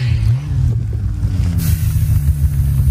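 A snowmobile with a 154 turbo engine drones loudly and steadily close by, a continuous low rumble with wind rushing over it and no talk.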